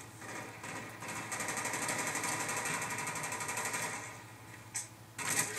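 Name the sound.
Enfield rifle gunfire in video game Black Ops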